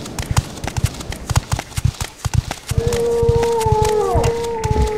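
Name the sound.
creature growling in video game Morrowind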